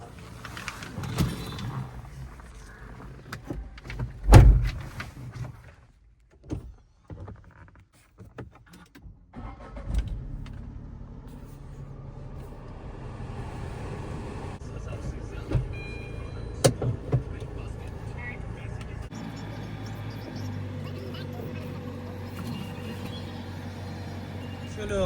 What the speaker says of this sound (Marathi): आज आपण कार घेऊन जाऊ.